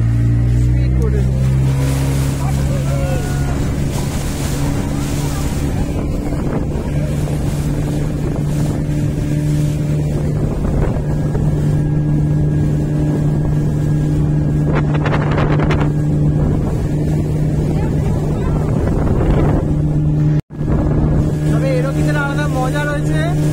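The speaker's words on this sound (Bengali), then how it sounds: "এবার আমরা স্পিড বোটে উঠছি, এই বেরিয়ে পড়েছি এবার স্পিড বোটে।" A speedboat at Maithon Dam gives a loud, steady motor drone with wind buffeting and splashing water, and voices can be heard over the noise.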